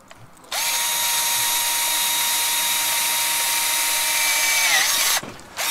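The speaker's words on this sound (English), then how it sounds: "I'm starting to drill through pretty well" A power drill whines at a high, steady pitch as it bores into metal, starting abruptly and running for several seconds before stopping.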